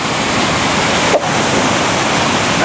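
A collapsed, damaged waterfall on the flooded Cong Burn river near Chester-le-Street roars with loud, steady, rushing water, broken only by a brief dip.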